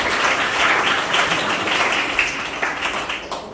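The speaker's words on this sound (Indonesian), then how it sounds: "Berikan tepuk tangan yang meriah." Audience clapping at a school awards ceremony, a continuous wash of many hands applauding that holds steady and tapers slightly toward the end, with no voices over it.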